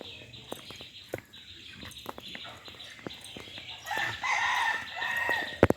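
Backyard chickens cluck in short, sharp bursts, then a rooster crows loudly nearby in a long drawn-out call near the end, with faint rustling and background activity around them.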